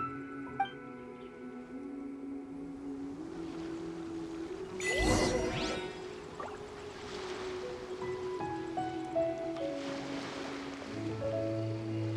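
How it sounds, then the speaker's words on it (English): Ocean waves washing in Genshin Impact, a soft continuous surf with a swelling rush near the middle, heard alone beneath faint game tones and chimes. "The sound of the ocean waves."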